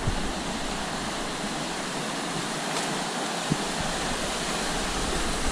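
A river flowing beside a countryside path in Xico, Veracruz, heard as a steady, soft broadband rush with no talk and a couple of faint brief knocks.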